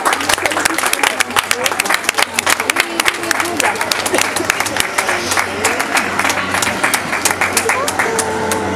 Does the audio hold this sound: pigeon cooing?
no